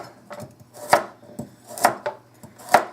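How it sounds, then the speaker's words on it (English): Knife slicing carrots on the bias against a cutting board: a steady rhythm of close, crisp chops, with a louder stroke about once a second and softer taps between, no voices. "So my carrots, I am just cutting on the bias."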